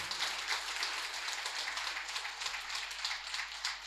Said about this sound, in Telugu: గణేష్ బృందంకి ఒకసారి గట్టిగా చప్పట్లు కొడదాం